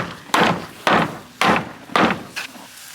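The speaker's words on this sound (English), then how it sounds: "It's a 3-pound hammer, and it really gets things done faster than just a basic run-of-the-mill normal hammer." A heavy 3-pound hammer strikes wood in five sharp, evenly spaced blows, loud and close, the last one lighter, with no talking, while preparing a horse shelter for a snow storm.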